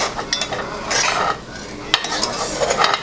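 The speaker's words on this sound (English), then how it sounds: "not a big stir, just like a fold, like we were making cake" Cooked white rice being gently folded in a pot, with soft scraping and clinks of a utensil against the pot in a steady, close stirring rhythm and no talking.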